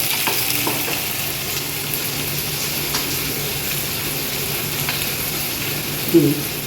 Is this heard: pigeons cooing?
no